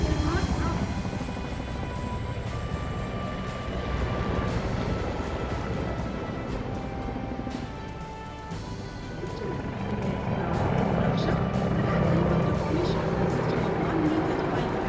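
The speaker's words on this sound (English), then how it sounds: "1 मी-35 और 4 Apache helicopters wig formation में उड़ान भरते हुए।" One Mi-35 and four Apache helicopters flying in formation over a Republic Day parade, a continuous deep rotor rumble and roar at moderate distance, with a commentator speaking over it.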